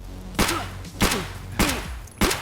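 Four loud .366 rifle shots fired at body armor in Escape From Tarkov, evenly spaced about half a second apart, each a sharp crack followed by a brief ringing tail.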